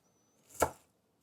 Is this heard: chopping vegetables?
yes